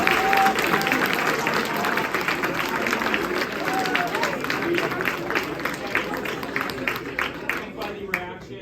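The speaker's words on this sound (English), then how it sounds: "I think you should give yourselves a round of applause because you're amazing" Audience clapping and cheering after a London trip reveal, a dense, sustained wash of applause with crowd noise mixed in, steady for several seconds before thinning toward the end.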